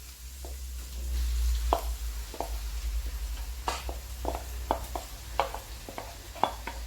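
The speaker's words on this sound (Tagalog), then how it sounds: "Igigisa natin siya konti. Kasama ng bawang at saka sibuyas, garlic, and onion." Tofu sautés in a pan with garlic and onion, a soft continuous sizzle broken by repeated scraping and tapping strokes of a spatula against the pan, close up. A low hum runs underneath and no one speaks.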